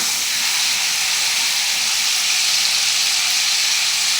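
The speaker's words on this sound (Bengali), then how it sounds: "আমি এখন কড়াইতে ফুলকপিগুলো ছেড়ে দিয়েছি, দিয়ে আমি এবার নুন হলুদ দিয়ে ফুলকপিগুলো ভাজবো।" Cauliflower florets sizzling in hot oil in a wok, a steady close hiss that holds evenly throughout with no talking.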